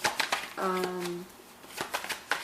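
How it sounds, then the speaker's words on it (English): Tarot cards being shuffled by hand, a quiet series of soft, quick riffling flicks and taps, with a woman's sustained vocal tone partway through. "I'm just letting the cards fall where they want"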